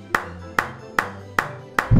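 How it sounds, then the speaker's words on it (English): Five sharp hand claps ring out alone at an even, steady rhythm, each snapping crisply with a short decay, followed by a brief low rumble at the very end. "The cause is clapping your hands."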